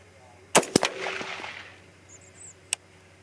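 A .243 Win rifle firing a Nosler Partition bullet at a target range: one sharp, loud crack with a quick echo tail, followed by a short rattle, a faint voice and a smaller distant pop.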